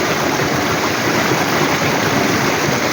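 Water runs steadily from a spray machine can set on a trough, carrying dissolved treatment into a crop field, a constant close rushing trickle with no pauses or voices.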